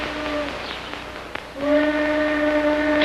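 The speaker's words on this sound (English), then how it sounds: "Train whistle." A sustained tonal whistle sounds, breaks off briefly, then resumes louder and steadier against a low background rumble.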